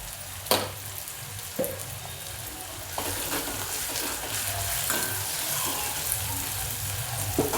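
Ridge gourd with onion, tomato and salt sautéing in a pan, with dal added to fry alongside: a steady, close sizzle with occasional stirring scrapes and clinks, and no voices.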